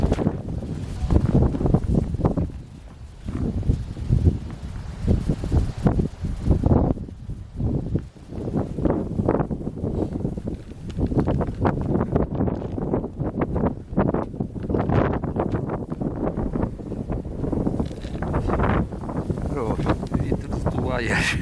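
Gusty, freezing wind buffets the microphone in heavy rumbling bursts at a snowy lake during winter carp fishing, with people talking under the roar.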